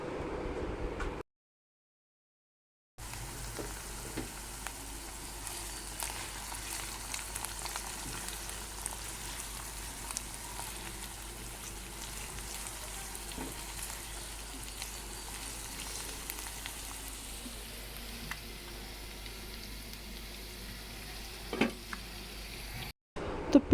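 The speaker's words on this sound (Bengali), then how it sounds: "দারচিনি, লং এটা ভালোভাবে ভেজে নিচ্ছি" Onion, cardamom, cinnamon and cloves fry in a pan with a steady, even crackling sizzle that runs almost the whole time, interrupted only by a brief silent gap near the start.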